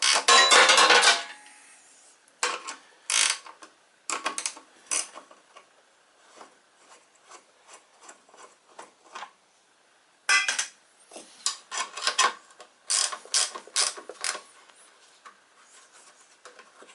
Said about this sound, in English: we've got a couple of bolts on the back that require 7/16 to remove